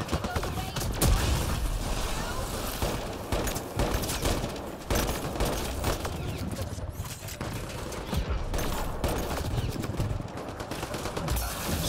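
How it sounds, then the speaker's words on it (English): Dense, continuous gunfire from a firefight in the sci-fi shooter Mass Effect: Andromeda, with rapid overlapping shots and bursts filling the whole stretch at a steady, loud level. "Who the fuck is shooting me?"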